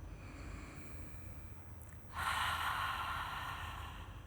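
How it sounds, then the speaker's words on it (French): Ujjayi yoga breath during a home session: quiet at first, then from about midway a strong, steady, breathy exhale through the mouth, like a soft airy 'ha', holding on close and clear to the end. "on va juste ici inspirer par le nez et on va expirer par la bouche comme si on voulait faire le son A"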